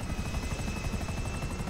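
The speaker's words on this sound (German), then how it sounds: "Aber cool, dass ich den Helikopter gespawnt habe." A helicopter in the video game GTA V thrums with a steady, rapid rotor chop, loud and continuous at close range with no talking.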